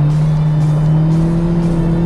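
A sports car with a tightly planted front end corners hard on a test drive: a loud, steady engine drone heard from close up, with faint tire hiss and no voices.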